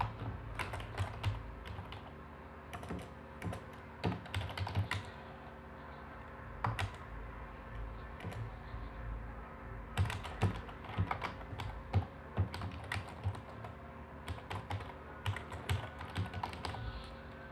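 Steady typing on a computer keyboard, quiet clustered keystrokes in uneven bursts with short pauses, close and alone without speech.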